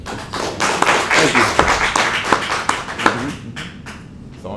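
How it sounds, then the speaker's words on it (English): An audience gives a round of applause at a live show, with uneven claps and sharp taps fairly close and loud, tapering off near the end. "I'd like to give all of you a great round of applause for coming and doing so well."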